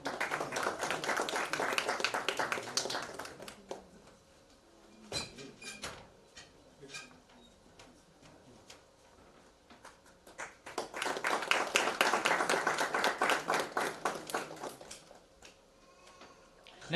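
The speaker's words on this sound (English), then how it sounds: "Please give a round of applause" Clapping from an audience at a school space science olympiad award ceremony, with two bursts of applause separated by a quieter stretch of scattered claps and taps.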